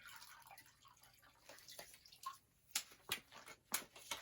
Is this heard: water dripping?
yes